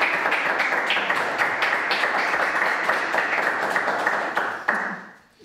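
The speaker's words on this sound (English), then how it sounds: "So let's give a big round of applause to Raffa and Teresa and Silke." Audience applause for Renaissance music performers at a bar: a steady, dense wash of many hands clapping, held at an even level before it thins and fades out at the end.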